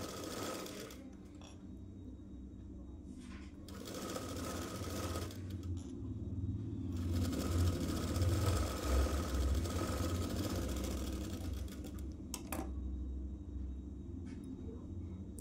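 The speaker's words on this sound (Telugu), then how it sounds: "డబుల్ స్టిచ్ చేసుకోవాలి." A sewing machine runs in several bursts of rapid mechanical stitching while double-stitching an umbrella dress, with pauses between runs and a low motor hum underneath.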